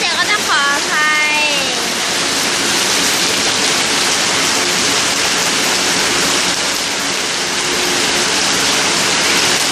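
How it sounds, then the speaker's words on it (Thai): Heavy rain pours down steadily as a storm approaches, a loud, dense wash of noise filling the whole span, with a voice briefly over it at the start. "เพราะว่าฝนตกหนักมากเลย"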